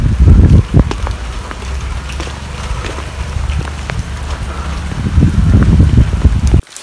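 Heavy rain in Nainital makes a dense, steady patter close by, loudest at the start and end, with a faint voice under it.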